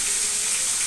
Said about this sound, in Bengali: মাছের মাথাগুলো ভেজে নিচ্ছি একটা কড়াইতে